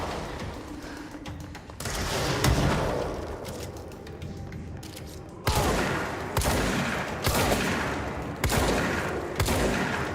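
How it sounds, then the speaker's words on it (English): Shotgun blasts in the video game Control, loud, sharp reports fired in spaced bursts, some closely paired, each with a short tail, and no talking. "I want to test out the shotgun."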